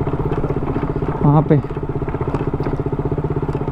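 Motorcycle running along a dusty dirt road toward a dam, its engine putting out a steady close thrum throughout, with the bike slipping on the loose surface; someone speaks briefly over the engine.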